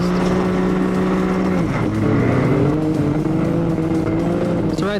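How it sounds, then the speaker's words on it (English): Off-road car on System 3 SS360 sand tires sliding sideways on sand, a loud close engine drone that drops in pitch mid-slide and then climbs again, with a sustained whine throughout. "right there, the car's sliding sideways, sliding sideways"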